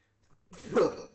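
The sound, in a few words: sneeze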